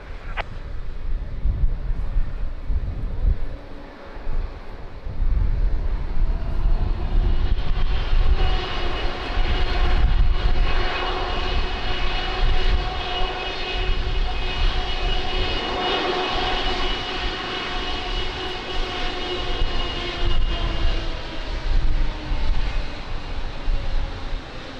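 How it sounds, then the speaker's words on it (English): An aircraft takes off from a runway at Lisbon Airport on a windy day, a loud, steady engine roar that builds and keeps going, with wind buffeting the microphone. "runway 20, cleared for takeoff"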